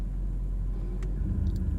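Car traffic on a mountain road at Devil's Backbone, a steady low engine rumble from nearby vehicles with a faint brief click, no talk.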